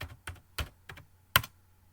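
Someone types a password on a computer keyboard during an Ubuntu software install: six or so crisp, close key clicks at an uneven pace, alone with no talk.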